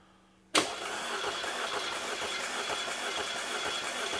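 A 2009 Audi A4 2.0T with a misfire is cranked over during a compression check, the starter and engine churning loudly and steadily up close after a sudden start, with no talking.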